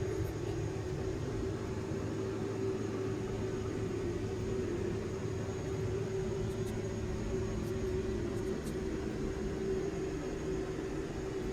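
Steady droning engine noise of a Pilatus PC-12 single-engine turboprop descending in the X-Plane flight simulator, a constant broadband rumble with a sustained tonal hum, loud and unchanging throughout with no voices.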